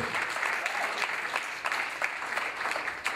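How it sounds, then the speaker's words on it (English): Steady applause from a crowd at a historical re-enactment program, dense clapping that holds at an even level throughout. "Give her a round of applause."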